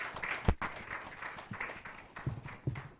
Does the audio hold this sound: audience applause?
yes